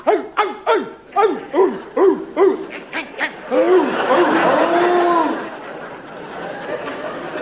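A voice imitates a small terrier barking across the road, giving a quick run of yapping barks that spread into a rougher, overlapping chorus of mimicked dog barks, loud and close.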